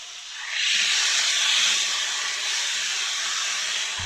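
Already-cooked octopus and spicy sauce sizzle hard in a hot pan for Korean nakji-bokkeum, a loud, steady hiss that swells after half a second and holds close and constant.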